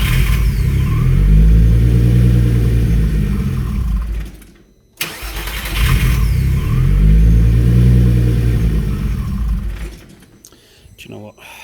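A Toyota MR2 fitted with a turbocharged VR6 engine is cranked and fires up, running loud and close with a rough, lumpy note, then cuts out abruptly before restarting and fading near the end as a voice talks.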